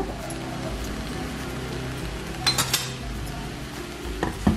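Puffed rice upma being mixed in a pan, a continuous dry rustle with scattered metallic spoon clinks against the pan, several clustered near the end.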